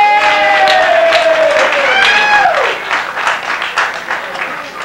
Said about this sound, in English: let's give a big round of applause to sister number one